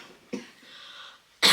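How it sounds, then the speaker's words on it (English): Two harsh coughs, one short and one louder and more forceful, separated by a breathy pause. "I've not stopped coughing since I finished my run."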